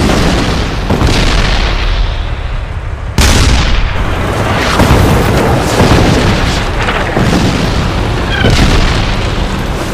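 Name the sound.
tank gunfire and explosions as enemy tanks are hit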